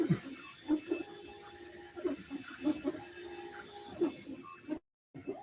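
3D printers running in a college makerspace, their stepper motors singing in repeating tonal whines and melodic beeps over a steady mechanical hum, with a brief dropout near the end.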